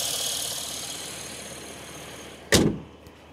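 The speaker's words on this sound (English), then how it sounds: "You can hear the engine's running just like it should." A salvaged 2020 Cadillac XT6 AWD engine runs at a steady idle with a constant hum, broken near the end by one sharp thump.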